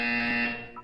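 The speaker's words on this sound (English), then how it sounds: "When you hear the buzzer, look up at the ceiling." A short electronic buzzer from the Portal 2 video game sounds loud and harsh, a single steady tone that fades out within a second.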